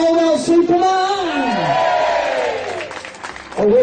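A crowd cheering for Gary Caldwell, a loud swelling roar of voices and whoops that rises and slowly fades. A single voice sings a long descending line over the crowd.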